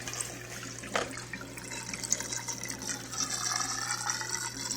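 Water rushes and trickles steadily through an aquarium sump filter on a fluidized bed setup, a constant close splashing flow with a low hum underneath.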